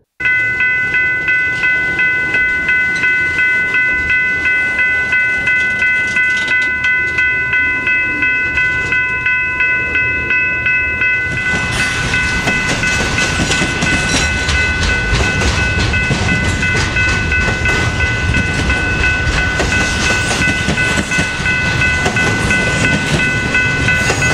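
A BNSF freight train rolls through downtown Oklahoma City. Steady wheel and railcar rumble carries throughout, with sustained tonal horn or whistle lines early on, and the rolling noise grows louder and fuller about halfway through.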